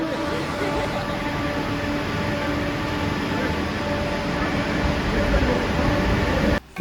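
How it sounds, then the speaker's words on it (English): Interior of a moving train bound for Birmingham International, a steady close rumble and hiss of the carriage with a faint high whine, continuous until a brief thump and dip near the end. "We're now on the Birmingham International train"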